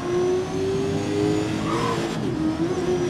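A race car engine in GRID 2019 holds a steady, high revving drone, loud and continuous throughout, with a slight dip and recovery in pitch as the car drives on in a high gear.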